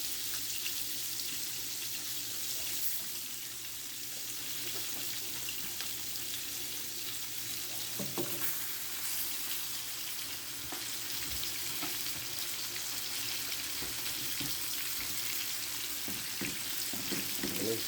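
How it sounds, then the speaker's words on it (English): A pork chop frying in melted butter in a pan, a steady close sizzle and crackle that runs throughout with a few brief clatters partway through. "So once our butter is melted, we will put on our pork chop."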